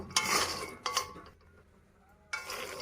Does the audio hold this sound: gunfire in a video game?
no